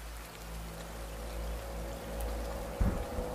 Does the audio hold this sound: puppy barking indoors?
no